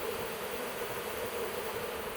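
A swarm of bees clustered around the main branch of a peach tree, giving off a steady, dense buzzing hum that holds even and unbroken throughout, close and continuous.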